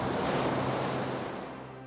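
Ocean surf rolls in as a continuous broad wash of waves, loud and close, tapering slightly at the end with no voices.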